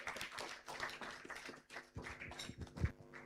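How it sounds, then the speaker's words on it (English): Audience at a graduation ceremony in a Nairobi hotel hall clapping in a loose, scattered burst of hand claps, moderately close and fairly steady, with no talking over it. "A better clap, asante sana."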